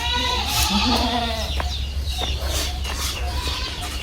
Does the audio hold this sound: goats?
yes